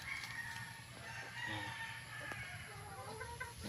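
Broiler chicks in a brooder, a dense chorus of continuous high chirping and peeping from many birds close by, with steady background hum underneath.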